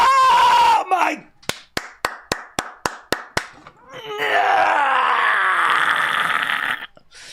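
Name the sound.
wrestling arena crowd cheering at WWE Royal Rumble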